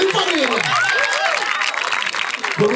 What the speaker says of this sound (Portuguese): Salva de palmas no primeiro round aí